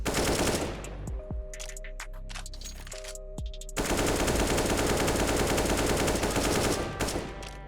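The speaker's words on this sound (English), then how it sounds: "I'm just going to shoot an entire mag out and only hold down mouse 1" A full magazine emptied in the shooter CSGO, loud rapid automatic gunfire in sustained bursts with a brief pause of ringing tones midway, then continuous firing to the end.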